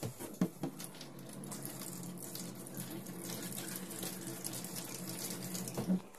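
Bathroom tap in an Elddis Affinity caravan running a steady stream of water into a sink, a constant close hiss and patter with a couple of brief knocks at the start and end.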